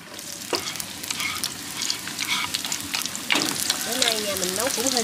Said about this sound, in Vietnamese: phi cái củ hành tím lên xong cái mình cho cái nấm gom vô mình xào